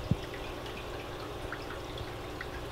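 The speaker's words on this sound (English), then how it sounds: "And there's the drip." Water dripping from an aquarium rack drip system, a single distinct drop falling early over a quiet, steady background of trickling water.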